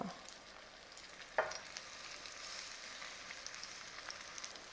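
Small Korean cabbage pancakes fry in a pan with a steady, soft sizzle throughout, broken once by a brief sharp clack near the start.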